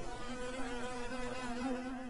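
Cartoon honey bees buzz as they attack, a sustained droning hum with wavering pitch, steady and moderately faint, with no voices.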